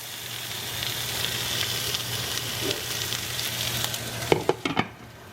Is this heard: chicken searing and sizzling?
yes